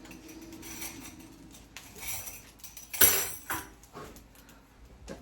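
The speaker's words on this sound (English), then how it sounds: "I'm gonna grab a spoon." Metal kitchen utensils clink and rattle as a spoon is pulled from the set, a few light clatters with one sharper clatter in the middle, close by in a home kitchen.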